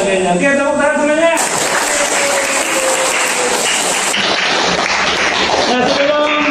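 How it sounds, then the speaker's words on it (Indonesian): A school class claps hands together during a blended in-person and online lesson, a short burst of clapping over music or voices that continue faintly underneath. "Oke, tepuk tangan semuanya."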